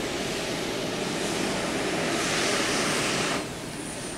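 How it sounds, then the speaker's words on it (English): A twin-engine jet roars overhead near a 2014 rural tractor pull in Marshall County, Minnesota, a loud, steady broadband rush that eases slightly near the end. "Another twin jet."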